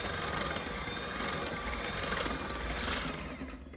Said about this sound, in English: Add the melting butter and start mixing slowly.